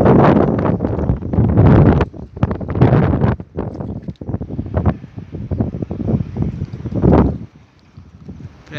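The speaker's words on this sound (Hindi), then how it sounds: "हवा भी बहुत तेज़ चल रहा है" Strong wind buffets the microphone in loud, uneven gusts with rustling, rising and falling throughout with a brief lull near the end.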